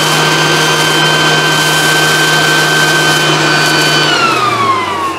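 A new 2021 Black+Decker cordless garden tool runs at reduced speed with a loud, steady, close motor whine that winds down and drops in pitch near the end.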